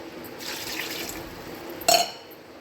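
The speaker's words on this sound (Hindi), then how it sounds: "इसके अंदर 2 गिलास पानी डाल के ये पोटे मैं इसके अंदर डाल देने लगी" Water from two glasses is poured into a pot of chicken stomach (pota) curry, a steady liquid pour with a brief louder splash near the end.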